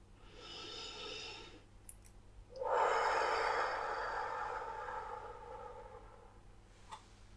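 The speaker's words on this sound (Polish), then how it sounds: "I głośny, długi wydech ustami." A loud, long exhale through the mouth during a guided meditation, a breathy rush lasting several seconds that fades gradually, following a softer breath in.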